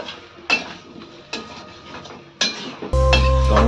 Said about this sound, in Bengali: দেখুন মাংসটাকে আমি ধীরে ধীরে কষাই করছি